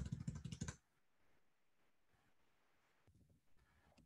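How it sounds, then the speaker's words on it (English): A quick burst of close keyboard typing opens, then fades to quiet room tone before a few faint soft key clicks return near the end. "typing this."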